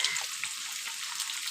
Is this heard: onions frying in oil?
yes